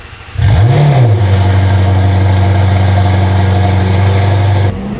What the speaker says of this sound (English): that Valvetronic exhaust never sounded so good